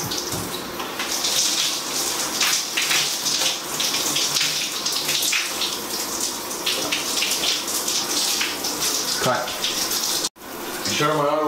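Steady, loud rush of shower water runs throughout while someone washes their hair, with a brief cut near the end and faint voices underneath.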